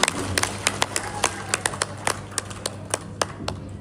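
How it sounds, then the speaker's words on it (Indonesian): A small gathering claps for donors at a city charity event for medical eyeglasses in Mataram, scattered, uneven claps heard at a moderate distance, thin and sparse rather than a full ovation. "Tepuk tangan untuk para donasi kita."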